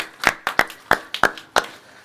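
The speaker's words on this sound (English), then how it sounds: "Big round of applause" A small group at a fishing tournament weigh-in gives a short round of applause, about seven sharp, distinct claps spaced unevenly over two seconds, close and fairly loud.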